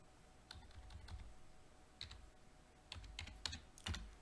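Quiet, close clicks of a computer keyboard as a short stock ticker is typed, in a few small bursts of keystrokes with pauses between them.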